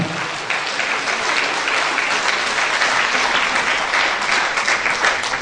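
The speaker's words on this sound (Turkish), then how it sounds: "Evet salondakilerden de bir alkış istiyoruz değerli dostlarımızdan." Audience in a hall at a poetry festival ceremony breaks into steady, dense applause that stays loud and even throughout, with no voices over it.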